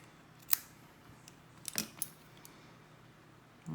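Small scissors snip a few sharp, close clicks while trimming wicking material for a Coil Master Ray RTA build, quiet and isolated with brief pauses between cuts.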